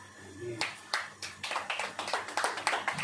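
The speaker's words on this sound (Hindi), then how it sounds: "ताली बजाओ।" An audience at a Hindi Christian sermon claps hands, a burst of scattered claps building into a quick, dense rhythmic clapping, close and loud, with a voice faintly underneath.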